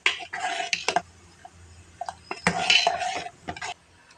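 A spoon clinks and scrapes against a pot while ragi flour mixture is stirred, giving irregular close knocks and scrapes with brief pauses between them.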